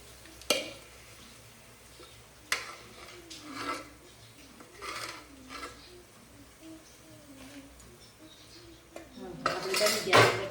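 Freshly made potato chips tipped into a bowl, with scattered clinks and scrapes of a utensil against dishes and a louder rustling clatter near the end, in a quiet room.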